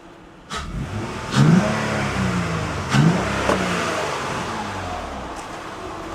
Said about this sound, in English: Let's give it a rev and see if we still get the cloud